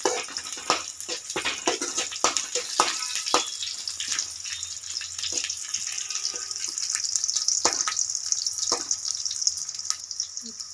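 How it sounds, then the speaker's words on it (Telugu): Dried red chillies and green chillies fry in hot oil with a continuous bright sizzle, broken by frequent clicks and scrapes of a spoon moving through the pan. "ఎండుమిరపకాయలు, కొన్ని పచ్చిమిరపకాయలు బాగా ఫ్రై చేసుకోవాలి."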